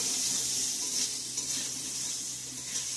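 Fried potatoes and pointed gourd sauté in a spiced pan, giving a steady bright sizzle with soft stirring, close and continuous for the whole moment.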